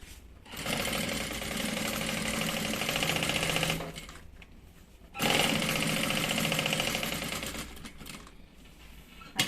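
Sewing machine running in two long bursts, stitching around the fabric lining of a trunk-style bag, with a loud steady mechanical chatter and a short pause between runs.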